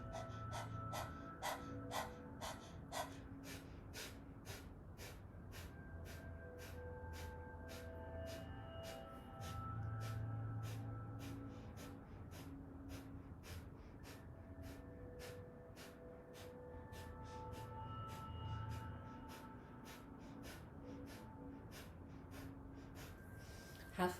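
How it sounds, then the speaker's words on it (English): Rapid panting breaths from a kundalini yoga breathing exercise, a long even series of sharp, quick puffs in a steady rhythm, faint and close, with a few brief vocal sounds mixed in. "We can start panting like a dog."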